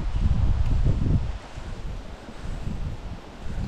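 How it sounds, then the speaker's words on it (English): Strong wind on a riverbank while trout fishing blows across the microphone in loud, rumbling gusts. The gusts are strongest at the start, then ease and rise again, and no one talks. "Really windy today"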